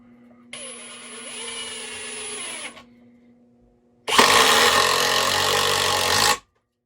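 Metabo HPT 36V triple hammer impact driver sinking a 4-inch screw into wood: a lighter spinning burst, a short pause, then a louder, harsher hammering run that stops abruptly, close up with no talk.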